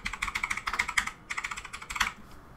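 Keys clatter in a quick, steady run as someone types a search for mouse settings into the Windows 11 search box, with a brief pause midway before a final burst of keystrokes.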